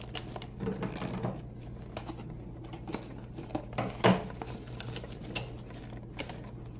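Scissors snip through paper in short irregular cuts while a paper rocket launcher is being made, crisp clicks and rustles close by, scattered over several seconds with brief pauses.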